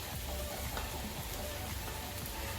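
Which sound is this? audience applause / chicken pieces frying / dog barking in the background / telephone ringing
chicken pieces frying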